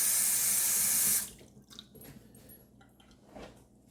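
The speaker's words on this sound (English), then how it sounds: "Rinse the alum off." Tap water runs steadily into a sink as alum is rinsed off the face after a shave, loud for about a second before cutting off, followed by faint drips and quiet handling noises.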